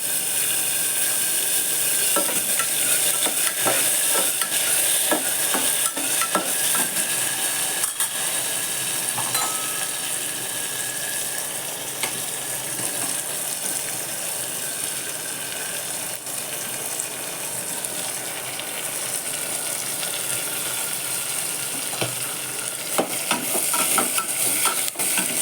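Onion, green chilies and other ingredients stirred in a pan for a quick pulao, giving a continuous hissy sizzle with a rapid clatter of utensil scrapes throughout and no voices.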